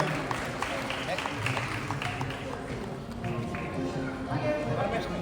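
Sustained applause from an audience at a Banjara Culture and Language Academy award ceremony in Bengaluru, a dense steady clatter of many hands that carries on throughout, with voices mixed in.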